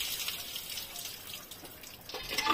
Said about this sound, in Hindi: नलके का पानी क्या, ये एकदम प्योर पानी है